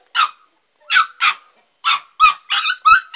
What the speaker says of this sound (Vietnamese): chó khoảng 50 ngày tuổi, chó bản mông nguyên chất hoang dã, chó rất ác này.